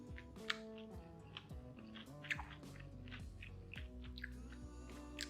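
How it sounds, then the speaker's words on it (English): Crispy baby corn Manchurian is eaten, with repeated close, soft crunching bites and chewing over a steady musical background. "Can you hear the crunch?"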